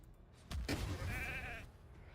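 A sheep bleats once in the mobile fantasy game Raid: Shadow Legends, a close, wavering cry of about a second that stands clear over a quiet background.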